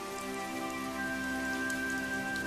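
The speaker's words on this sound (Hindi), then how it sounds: "बरसात अब धीरे धीरे हल्की हो जाती है" Steady rain falls in a Hindi horror cartoon scene, a continuous even hiss with a sustained tonal hum beneath it, no voices.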